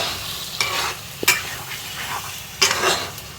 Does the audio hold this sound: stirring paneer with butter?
yes